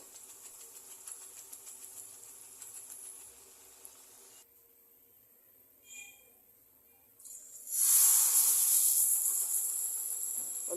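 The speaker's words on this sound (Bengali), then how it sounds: "আমি পিঠাগুলো সব ভেজে নিচ্ছি" Flower pitha cakes fry in hot oil in a pan wide enough for two at a time. A faint hiss swells into a loud, bright sizzle that continues to the end.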